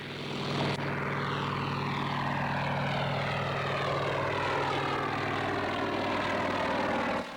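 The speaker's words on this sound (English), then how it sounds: "The S-55 was regarded as the first true service status helicopter." A Sikorsky S-55 (H-19) helicopter flying at a 1994 airshow in Wanaka, New Zealand gives a steady, loud rotor and engine drone with a sweeping pitch shift, continuous throughout with no talk.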